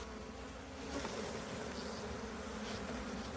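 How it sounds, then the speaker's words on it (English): Bees swarm around a dune buggy where their original hive was removed, a dense, steady buzz that fills the air up close and alone, with no voices. "There are definitely a lot of bees collecting back on the Dune Buggy where the original hive was"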